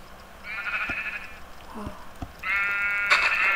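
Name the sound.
sheep bleating in the video game Yogurt Island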